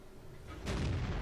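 A tank cannon shot in World of Tanks from an M46 Patton battle on a cliffside, a single heavy boom that rises abruptly midway and rolls on as a dense rumble, with no talking.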